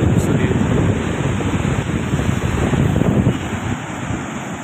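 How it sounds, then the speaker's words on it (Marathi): A flooded river flows in spate, a loud, steady broadband rush of water mixed with heavy wind buffeting, with no voices. "मोठ्या प्रमाणामध्ये पाणी सध्या वाहते"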